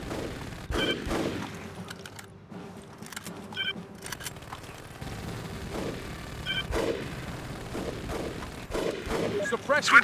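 Gunfire from squads suppressing enemy soldiers at a roadblock in the Xbox game Full Spectrum Warrior: repeated bursts and single shots throughout, mixed with radio-style voice chatter and battlefield noise.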